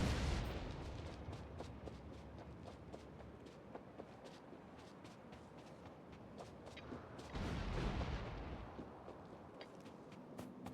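Grenade blasts striking trees in the Factorio game, a dense run of dull booms and crackling impacts rumbling steadily, with a heavier surge of explosions near the end, no talking.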